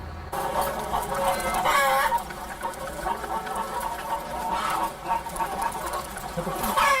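Hens in an egg-laying battery farm cluck and squawk continuously, a dense overlapping flock chorus with occasional louder calls rising above the din, no speech.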